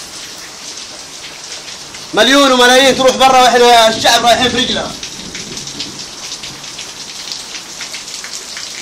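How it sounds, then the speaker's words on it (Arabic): Heavy rain pours steadily outside a Saudi man's home during a downpour, a dense continuous hiss that runs throughout while someone speaks loudly over it in the middle. "هذا المطر"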